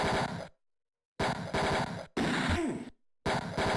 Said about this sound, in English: Got some goons to shoot.